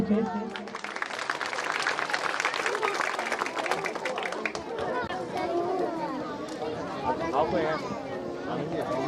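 Audience applause at a Republic Day event at a coaching centre, clapping mixed with crowd chatter and talking voices throughout, fairly loud and close.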